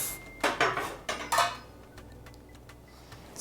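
Metal baking spatulas are handled and knocked together in a kitchen, giving a quick run of light metallic clinks and clatters early on, then a few faint ticks before one last clink.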